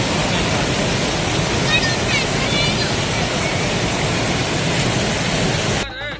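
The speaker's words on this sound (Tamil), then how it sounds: "ஆர்ப்பரித்து கொட்டும் அருவியின் அழகை காண ஏராளமானோர் குவிக்கின்றனர்" The flooded Hogenakkal waterfall roars in a continuous loud, dense rush of falling water that fills the whole scene without pause.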